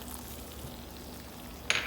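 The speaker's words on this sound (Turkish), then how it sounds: "Şerbetimiz yarım saat kaynadı." Sugar syrup of sugar and water boils in a pot with a soft, steady bubbling hiss, then a brief metallic clink near the end.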